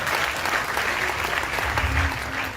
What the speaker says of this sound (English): clap for the ministry.